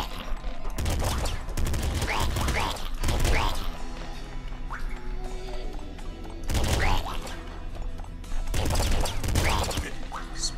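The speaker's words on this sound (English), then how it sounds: "This double machine gun action" Rapid bursts of dual machine-gun fire in the top-down shooter Nuclear Throne, loud clattering volleys repeating in several clusters over a constant layer of game effects and music, with no one talking.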